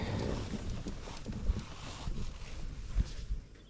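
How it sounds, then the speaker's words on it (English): Steady wind gusting across open water while fishing for crappie and bluegill, a continuous broadband rush with occasional low thumps of buffeting against the microphone, no voices. "it's a little bit of wind right now"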